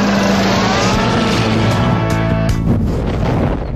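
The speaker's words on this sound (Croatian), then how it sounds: "Taj farmerski kamiončić zbilja zna kako se vozi." A cartoon farm truck drives along steadily, its engine droning loud and continuous with shifting tonal hum throughout.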